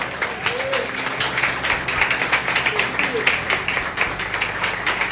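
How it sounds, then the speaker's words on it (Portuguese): A church congregation applauds two newly ordained pastors at an ordination service, a steady dense wash of clapping with crowd murmur and voices mixed underneath, fairly close and sustained throughout. "Uma salva de palmas para eles."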